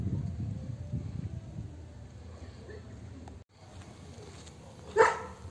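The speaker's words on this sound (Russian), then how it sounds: "Собачки на меня лают." Village dogs bark at a stranger in a half-empty village in Armenia, Mexico, a few distant, faint barks rising over outdoor ambience, followed by one louder, sharper call nearby.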